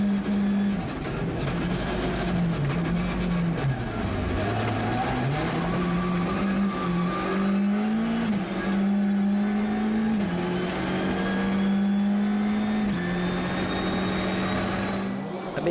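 A Skoda Fabia R5 rally car drives hard through the opening stage of a gravel rally in Liepāja, its engine a loud, continuous drone rising and falling with gear changes and revs across the whole stretch.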